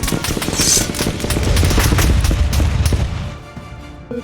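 Loud, sustained burst of automatic gunfire in a comic-book action scene, rapid overlapping shots and blasts filling several seconds before tapering off.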